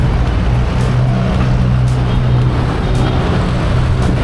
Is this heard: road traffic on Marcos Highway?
yes